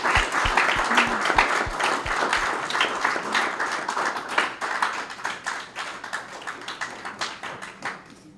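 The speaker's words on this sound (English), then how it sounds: "if we can give them a round of applause" A round of applause for the speakers at a Lummi Nation gathering, opening with a few loud, close, spaced claps before a wider crowd joins, then gradually fading out.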